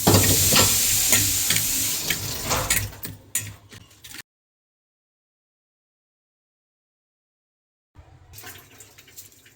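Hot oil for chana sizzles and crackles loudly in a pan, fading into scattered spits. Four seconds of silence follow, then quieter sizzling returns.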